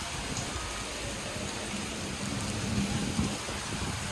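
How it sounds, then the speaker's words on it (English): Heavy monsoon rain in Thailand pours down as a dense, steady hiss that fills the whole stretch without breaks, with no voices over it. "And once the rain slows down a little bit, we'll start walking."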